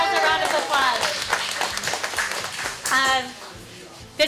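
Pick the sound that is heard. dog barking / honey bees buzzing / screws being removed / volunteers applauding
volunteers applauding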